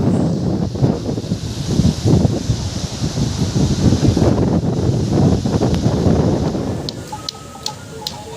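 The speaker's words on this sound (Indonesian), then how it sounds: "ombaknya semakin membesar dan suara anginnya makin kencang" Strong wind roars steadily at the shore by Tanah Lot temple in Bali, with ocean waves breaking underneath in a loud, continuous wash, easing slightly near the end.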